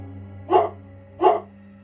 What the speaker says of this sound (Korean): 또리가 숲을 쪽을 향해 계속 짖는 걸 보니 멧돼지와 그 새끼들이 근처에 있는 것이 틀림없었습니다